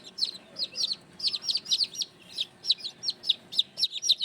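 Young chicks fresh from an incubator chirp in quick, high repeated peeps alongside adult chickens clucking softly, a busy steady chorus at close range with no talking.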